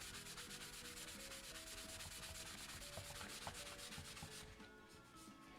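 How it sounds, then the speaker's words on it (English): Dry cloth buffing a milk paint finish on a piece of furniture, a soft continuous rubbing with a steady back-and-forth rhythm, faint and close, with no voice. "And then with using another dry part, I'm just going to buff it."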